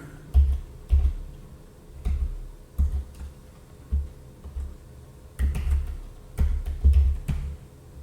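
Someone types on a computer keyboard in irregular bursts of close, sharp key clicks and thumps, with short pauses between flurries and no speech.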